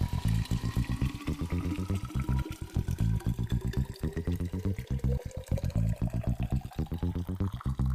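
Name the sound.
pouring hot water from kettle into thermos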